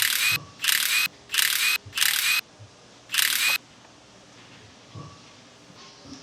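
A ratchet clicks in five quick bursts as tools remove the front skid plate on a Toyota truck, sharp and close, followed by quieter faint handling noises.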